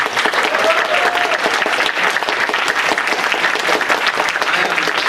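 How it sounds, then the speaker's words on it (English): Audience at a Q&A panel applauding, dense steady clapping from a room full of people that lasts throughout, loud and close with no talk over it. "I want a round of applause for John Bailey Crompton."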